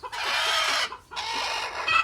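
A free-range village hen on a farm clucks in two close, steady bursts separated by a brief pause, with faint background noise.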